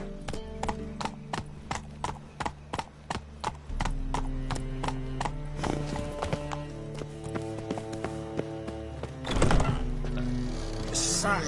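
A horse in The Witcher 3 video game trots with sharp, evenly spaced hoofbeats, then settles into a softer run under background music, with a brief louder whinny-like burst near the end.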